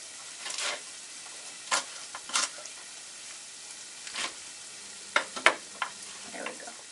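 Chopped greens with their stems being stirred and cooked briefly in a pan, scattered scraping and light sizzling bursts, close and intermittent, with quiet gaps between.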